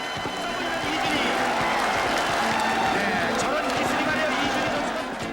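A large stadium crowd roars and claps continuously at a ssireum wrestling match, a dense, loud wash of cheering with excited voices mixed in.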